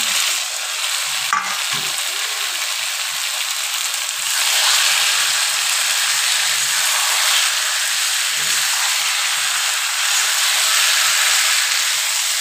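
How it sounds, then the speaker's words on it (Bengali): Boiled jackfruit and fried potatoes hit spiced oil in a pan for a prawn curry, giving a loud, continuous sizzling hiss with a few stirring clinks early on, close and without talk. "এবার আমি দিয়ে দেবো সিদ্ধ কাঁঠাল আর এই ভাজা আলু"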